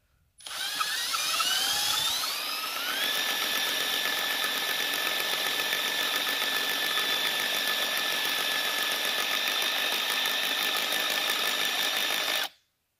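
A small wind power generator spun up to speed, a close, loud whine that rises in pitch over the first few seconds, then holds a steady high drone until it stops abruptly, with no talk.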